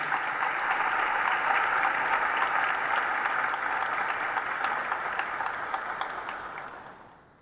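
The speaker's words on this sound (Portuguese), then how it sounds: "peço a todos um forte aplauso para o centenário das Assembleias" Sustained applause from an audience at a solemn session honoring a church centenary in Rio de Janeiro, steady and full for several seconds before fading out at the end.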